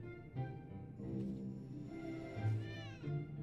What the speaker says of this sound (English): Ah, his kitty cats!